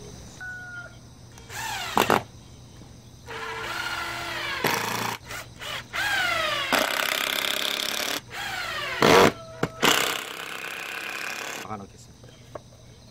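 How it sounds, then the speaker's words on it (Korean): A power driver whines in repeated bursts of rising pitch as screws are driven into wood for a homemade chili pepper harvesting tool, with short pauses and handling noise between runs, close and fairly loud. "피스로 고정을 하겠습니다."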